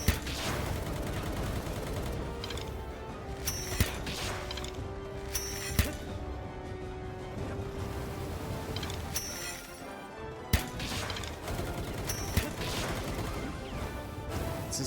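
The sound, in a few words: gunfire shooting at the player in the video game Palworld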